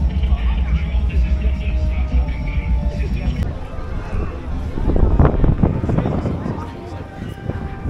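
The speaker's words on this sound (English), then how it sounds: "It is quite windy, so I get that." Strong wind buffets the microphone at the Alton Towers theme park, a loud continuous roaring gust that swells and eases, with a person talking at times.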